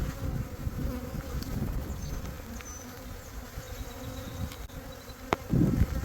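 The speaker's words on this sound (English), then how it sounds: "all the other bees move out of her way" Honey bees on a hive frame in a nuc box give off a steady, close, soft buzzing hum that never lets up, with a single faint thump near the end.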